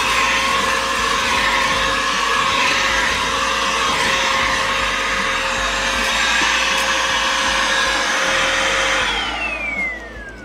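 A cordless vacuum cleaner runs inside a caravan with a loud, steady motor whine and airflow roar, close by, then winds down with a falling pitch as it switches off near the end.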